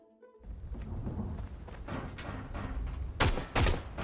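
Rapid AK rifle gunfire in the survival shooter Road to Vostok, a dense fusillade of shots over several seconds with two louder, nearer bursts toward the end.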